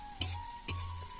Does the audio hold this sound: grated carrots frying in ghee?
yes